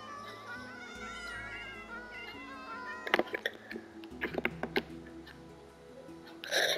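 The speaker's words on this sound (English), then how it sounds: "Spawn the cats, or whatever your guy's mob is." Cats meowing in the Minecraft video game, several overlapping drawn-out mews and wails repeating over a steady background music bed, followed by clattering blocky sounds.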